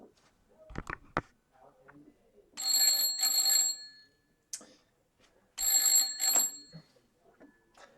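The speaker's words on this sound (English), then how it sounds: "I'm just going to prove that by ringing my landline from my mobile." A 1948 railway-style landline telephone bell rings in two separate loud, bright bursts, each a quick double ring, with quiet pauses and faint handling noise between them.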